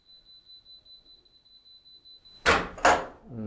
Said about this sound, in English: It'll beep to warn you that the door is going to close.